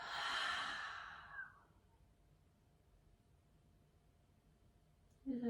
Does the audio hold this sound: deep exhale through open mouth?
yes